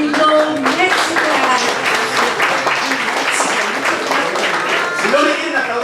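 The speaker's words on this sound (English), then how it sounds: "let's give a round of applause to Francisco de la Torre Galindo, México." Applause and cheering at a LULAC chorizo menudo breakfast in Dallas for Francisco de la Torre Galindo of México, a lively crowd clapping with music and voices mixed through it.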